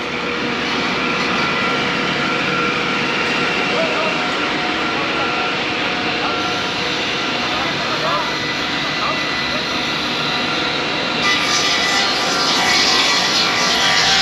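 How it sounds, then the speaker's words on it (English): Heavy machinery roars loud and continuous during a cement delivery at a construction site in Mallorca, a steady mechanical rumble that lasts throughout, with voices faintly mixed in. "This one is a little bit noisy. Got a delivery of cement."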